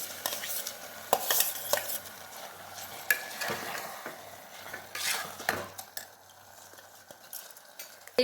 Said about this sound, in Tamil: இப்போ இந்த ரைஸையும் இதோட போட்டுருவோம்.